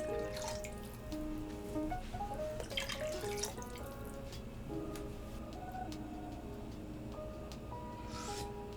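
Two cups of water are poured into a pot of chicken tortilla soup, a faint, steady stream that runs for several seconds in a quiet kitchen.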